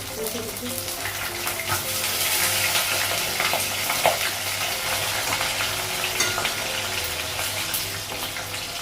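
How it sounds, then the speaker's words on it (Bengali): Fish fries in a pan on a gas stove with a steady, moderately loud sizzle and crackle, a low hum running beneath it and a few stirring knocks. "তো মাছটা এক সাইডে ভাজা হয়ে গেছে,"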